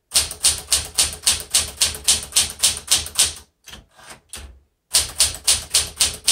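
A 1967 Smith Corona Super Sterling manual typewriter clacks away in a fast, even run of sharp keystrokes, pauses briefly with a few scattered taps, then resumes its regular rhythm close up.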